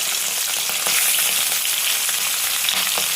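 Prawns fry in a pan on a tawa with a loud, steady sizzle and hiss, broken now and then by crackling pops and faint stirring, with no talking.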